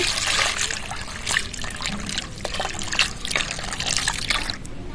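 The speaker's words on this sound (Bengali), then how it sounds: "জল দিয়ে দিচ্ছি" Water trickles from a container onto mashed roasted mango pulp, a steady close pour with small splashes throughout.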